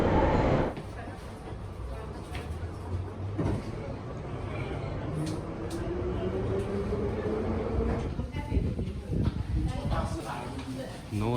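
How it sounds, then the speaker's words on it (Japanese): A London Underground train bound for Cockfosters rumbles on the platform and pulls in, with a steady low roar, a rising whine and door and track noises, while people talk nearby. "このプラットフォーム2のコークフォスターズ行きに乗れば行けるそうです。"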